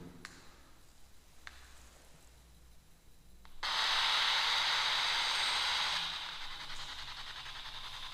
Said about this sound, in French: On appelle ça le bruit blanc.